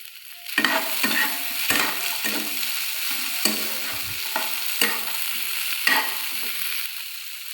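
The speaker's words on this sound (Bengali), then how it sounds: "আমি এটাকে একটু ভেজে নিচ্ছি হালকা করে" Boiled chickpeas fry lightly in a pan, a soft sizzle broken by repeated sharp scrapes and clatters of a spoon stirring them, loud and close.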